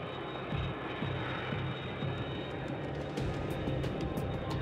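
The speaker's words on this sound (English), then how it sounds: "there are the lights now on what we believe is the big Qantas jet" A large Qantas jet airliner on approach to land on the main north-south runway, its engine roar steady and loud with a broad rushing whine, rumbling continuously throughout.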